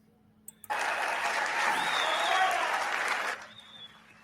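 An audience at the CPAC 2025 conference in Washington, DC breaks into sustained applause after a speech by Javier Milei, a dense wash of clapping that starts abruptly, holds for nearly three seconds, then fades out.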